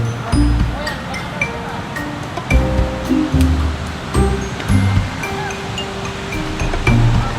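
A large stream rushes steadily outdoors at a fishing spot, loud continuous water flow with occasional birdsong, while people talk over it.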